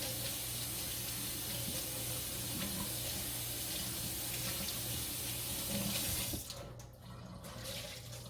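A kitchen tap runs steadily to dampen a cloth during bread making, a continuous close splashing flow that stops abruptly near the end, leaving a quieter room.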